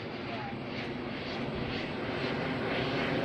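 Small RC airplane engine droning steadily in flight through stormy, hurricane-force wind, throttling back as it glides down, with continuous wind noise throughout.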